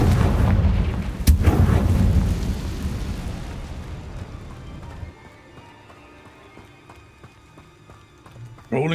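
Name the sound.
Confringo fire spell in video game Hogwarts Legacy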